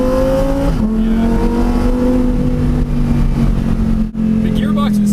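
A Lamborghini Huracán Performante races up a mountain road, its engine droning loudly at high revs with a clear gear shift and pitch drop early on, while people talk over it inside the car.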